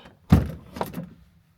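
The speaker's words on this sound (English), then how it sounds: "And if I open the door," Campervan door opened by hand: a single solid clunk of the latch near the start, followed by a softer rattling thud as the door swings, close and moderately loud with no talk.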